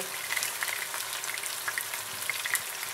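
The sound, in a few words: beef browning in a pan for stew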